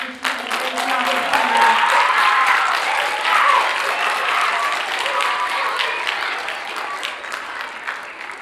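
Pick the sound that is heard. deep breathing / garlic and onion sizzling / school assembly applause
school assembly applause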